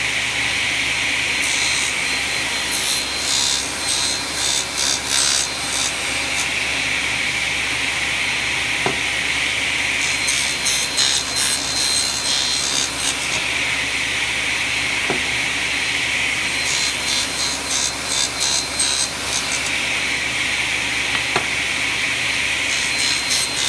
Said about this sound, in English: what I'm going to do is just cut these off just like this, so they're all cut the same height